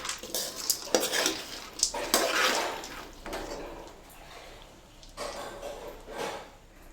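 Chopped dry fruits, cashews among them, are stirred in a pan over a low flame, giving intermittent spoon scrapes and clinks against the metal with a soft frying hiss underneath.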